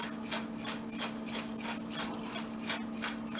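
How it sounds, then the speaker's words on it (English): Whole black peppercorns being ground in a mill, giving a close, steady rasping crunch that repeats in a regular rhythm about twice a second. "I like the peppercorns, I like to grind them, it's got more flavor to me."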